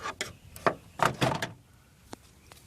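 Plastic car door trim panel clips pop loose one after another as a flathead screwdriver pries the panel off. There are several sharp, close snaps and clicks in irregular succession, with quiet pauses between them.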